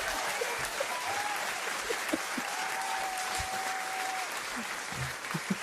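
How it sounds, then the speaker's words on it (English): A round of applause on a live-streamed show fills the whole stretch, dense and steady at an even level, with a thin whistle-like tone drifting through the middle. "I feel like that warrants a round of applause."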